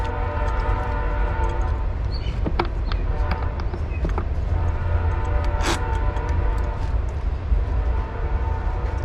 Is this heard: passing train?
yes